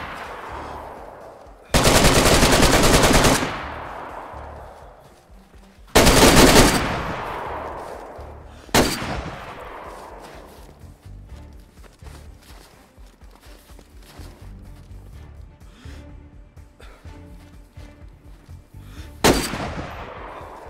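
Gunfire in the video game DayZ: two long, loud bursts of automatic fire, then a sharp single shot, quieter stretches with scattered faint noises, and a final loud crack near the end.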